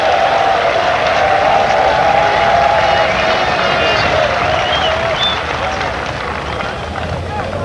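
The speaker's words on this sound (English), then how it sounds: "A roar from the crowd as we have a look at the opening batters." Cricket crowd at a 1999 World Cup match between South Africa and Kenya, a broad steady roar and applause filling the stadium, with a commentator talking over it.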